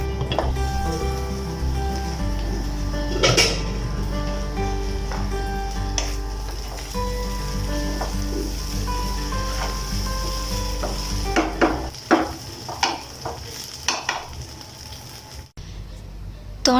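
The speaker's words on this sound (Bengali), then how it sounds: "শুধুমাত্র ট্যাঙ্কুরা পাউডার দিয়ে ভালো করে একটু মেখে তারপরে এটা তেলে ভেজে নিচ্ছি।" Rice mixed with Tankura powder frying in hot oil in a home kitchen, a steady loud sizzle with occasional sharp clicks and scrapes of stirring, growing more clattery toward the end.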